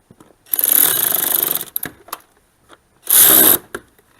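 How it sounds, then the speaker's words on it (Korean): A power tool drives bolts while an electric radiator fan is mounted on a Kia Mohave, two loud close bursts of whirring rattle separated by brief clicks and handling noises. "일단 상부하고 하부가 고정되는 상부 하부 볼트 4개를 먼저 조립을 합니다"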